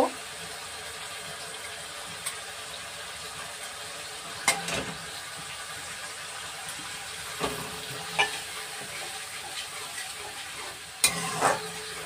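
Plantain dhoka masala sautéing in a pan, with a steady close sizzle and occasional clinks and scrapes of stirring throughout.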